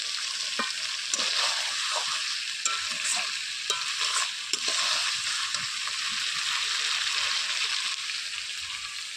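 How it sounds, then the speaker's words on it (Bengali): Chicken sautéed with stone-ground spices in a pot over a dry wood-fired clay stove, a steady close sizzle with repeated scraping and stirring strokes of a spatula throughout. "কষানো প্রায় হয়ে এসেছে, আর একটুখানি কষিয়ে নিই"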